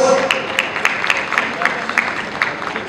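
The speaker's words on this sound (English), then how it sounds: "Give them a big round of applause." Applause from an audience at an exhibition industry awards ceremony for the printing and packaging winners Fairmax, a steady patter of clapping over hall ambience.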